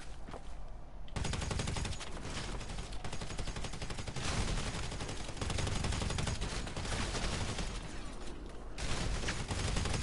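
Rapid automatic Special Carbine gunfire from the video game GTA, a dense near-continuous rattle of fast shots lasting throughout, loud and close with several shooters overlapping.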